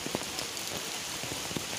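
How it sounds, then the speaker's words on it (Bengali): Continuous rain falls steadily on surfaces in a village, a dense even hiss with scattered closer drips and drops standing out, and no voices. "বৃষ্টির জন্য কিছু দেখাই যাচ্ছে না শুধু বৃষ্টি আর বৃষ্টি"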